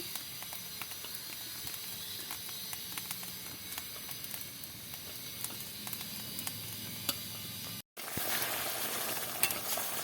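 Stuffed pointed gourds go into a pot of thickened, boiling gravy, giving a steady close sizzle and bubbling hiss with faint clinks, broken by a brief silent cut near the end.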